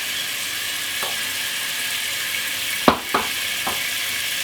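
A wooden spoon stirs flour into a roux in a pan over medium heat, giving a steady soft frying sizzle with a few distinct scraping knocks near the end.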